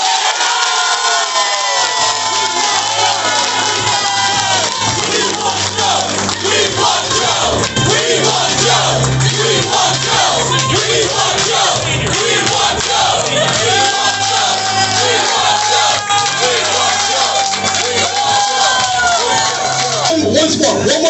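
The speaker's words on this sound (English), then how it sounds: "Once more, one more round of applause." A big crowd cheers, whoops and claps loudly and continuously, with shouting voices mixed in throughout, right after a campaign rally speech by a candidate for Northeast Philadelphia.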